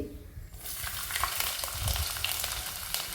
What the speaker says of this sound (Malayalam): ചൂടായ എണ്ണയിലേക്ക് ഒരു പിഞ്ച് ഉലുവ ഇട്ട് കൊടുക്കുക ഇനി ചെറുതായി അരിഞ്ഞ ഇഞ്ചി